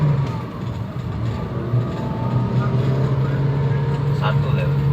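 A 2009 Toyota Avanza with hard pulling, difficult starting and unstable rpm drones steadily under throttle, a low rumbling engine tone that builds slightly, with a voice speaking over it.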